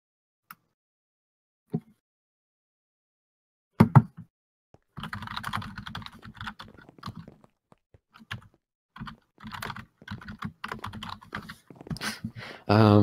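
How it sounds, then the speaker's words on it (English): A loud computer keyboard is typed on in bursts of rapid clacking keystrokes, close and crisp, with a few isolated clicks and pauses between runs and no speech. "can you hear me typing?"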